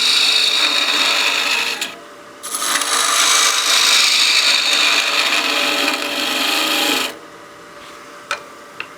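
A spindle gouge cuts wood on a lathe while turning a small bat house ornament, producing a loud continuous rasping hiss that stops briefly, resumes for several seconds, then drops off, leaving a quieter motor hum.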